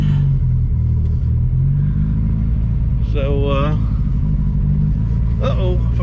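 A 1972 Ford Pinto with a four-speed runs close by, its engine a steady low rumble throughout while someone talks over it.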